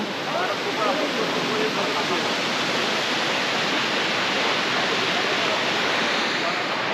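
Water pouring down Bamni Falls in Purulia, a constant loud broadband roar of falling water filling the scene without a break, with faint crowd voices blended into the rush.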